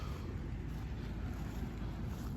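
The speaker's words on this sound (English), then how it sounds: "the wind is blowing, so it's gonna blow them around" Steady wind blows across a garden yard as a continuous low rushing roar buffeting the microphone, with no other sounds standing out.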